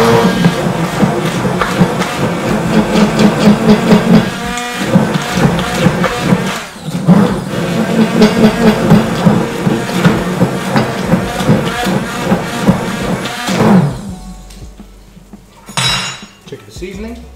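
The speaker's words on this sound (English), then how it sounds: "I'm just going to blitz it on a slow speed first," A kitchen blender whirs steadily while blitzing an aubergine puree, its motor droning with a rattling, clattering edge for most of the stretch before cutting out and giving way to quieter handling sounds.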